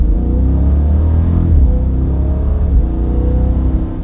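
A Jeep Grand Cherokee SRT engine on its stock exhaust revs close by, a loud, steady low rumble that swells slightly as the throttle is pressed, with no voices.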